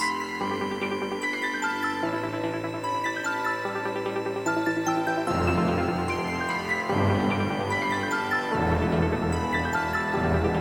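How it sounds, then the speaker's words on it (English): Layered orchestral sound in FL Studio with sustained strings on top of brass chords, growing fuller midway as lower parts and percussion join; steady and fairly loud, no talking. "let me add in these strings here on top of the brass."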